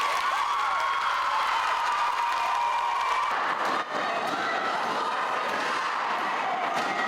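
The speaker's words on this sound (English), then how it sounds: "The sound of protesters reverberating across the rotunda." A protest crowd fills the West Virginia State Capitol rotunda with sustained cheering and applause, a steady loud wash of voices echoing off the hard walls for the whole stretch.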